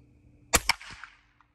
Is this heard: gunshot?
yes